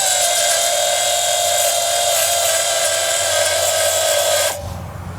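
A belt sander stripping coating from a metal trailer tongue makes a loud, steady, high grinding whine close up, then drops off sharply near the end as the tool winds down.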